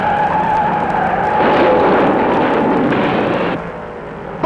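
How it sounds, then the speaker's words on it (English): Race car crash at the 1972 Darlington Southern 500: a loud, sustained tire skid with engine roar swells into an impact burst, then fades into a lower rumble and ends in a sharp knock. "Uh-oh, there's a crash on turn"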